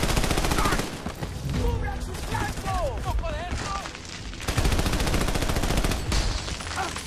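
Gunfire in the shooter game Army of Two: The Devil's Cartel: dense, continuous shots and bursts throughout, with voices talking over the shooting in the middle.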